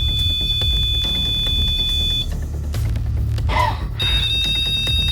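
Loud, high electronic alarm tones from a REM pod ghost detector in a house at night sound for about two seconds, cut out, then resume near the end, with a brief chirping sweep between.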